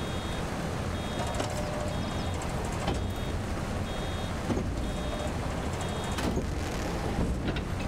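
Repeated reversing beeps from a farm vehicle in Farming Simulator 22 on the Iowa Plains View map, short evenly spaced tones sounding over a steady engine rumble and general field noise.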